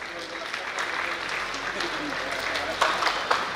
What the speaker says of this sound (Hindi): आप लोग जोरदार तालियों से आने वाले मेहमानों का स्वागत करें।